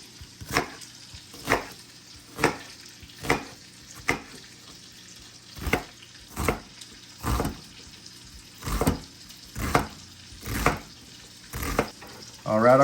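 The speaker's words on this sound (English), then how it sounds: "I've got about a pound of bacon back here on the stove cooking" Bacon pieces sizzle in a pan on the stove under a regular series of scraping stirs, each stroke a short swell over the steady frying hiss.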